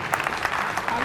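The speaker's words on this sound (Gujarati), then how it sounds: "તાળીઓ સાથે બતાવો." Audience clapping at a pensioners' association annual gathering in Ahmedabad, a short burst of dense, fairly close applause with voices mixed in.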